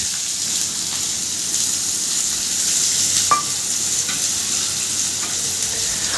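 Two medium chopped onions frying on high heat, giving a steady, loud, rain-like sizzle with scattered crackles and a single metallic tap, no voices.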